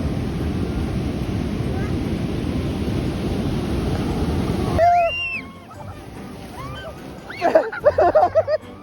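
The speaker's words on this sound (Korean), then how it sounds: "우와 저기 엄청 큰 파도 온다" A big ocean wave at the beach during heavy rain roars with loud, broad rushing surf for several seconds, then fades as excited voices and laughter take over.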